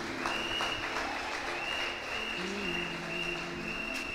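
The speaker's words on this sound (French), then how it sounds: "On peut aussi acclamer pour eux." Audience applause for musicians, including a pianist, at a church service, a steady broad clapping wash over sustained musical tones, moderately loud and continuous throughout.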